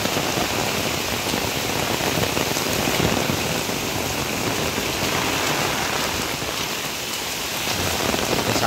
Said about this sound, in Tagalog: Lumalakas yung ulan dito.